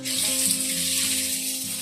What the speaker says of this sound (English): it needs to sizzle when we add the food